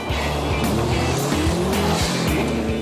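A Subaru Impreza WRX STI rally car cornering hard on rough gravel, engine roaring close with quick rev changes and gear shifts, tyres scrabbling through the turn.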